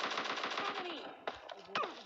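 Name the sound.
gunfire in a video game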